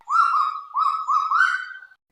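A female kagu gives a clear whistled call in several rising, slightly nasal notes, close and alone against silence.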